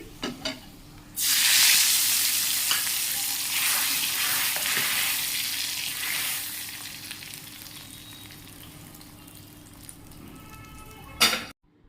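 A tempering for fenugreek-leaf dal hits hot oil with a sudden loud sizzle, then keeps crackling and spitting and slowly fades over several seconds, ending in a sharp clatter.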